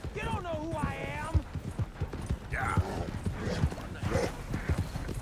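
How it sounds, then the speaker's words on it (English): Horse hooves clip-clopping at a steady gallop in the game Red Dead Redemption 2, a rhythmic thudding that runs beneath someone talking throughout. "Tá perdendo fôlego meu cavalinho, mano."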